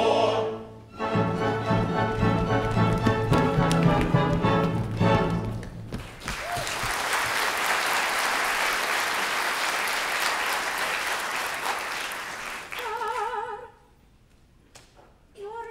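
Theatre audience applauding and cheering for the ship's captain during a staged H.M.S. Pinafore operetta, the clapping swelling loud and sustained after orchestral music and singing, then fading into quiet.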